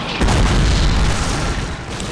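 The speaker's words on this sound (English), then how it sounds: "There's the artillery that we were told about." An artillery shell explodes in the Call of Duty video game, a loud, close, deep boom that rumbles heavily for about two seconds.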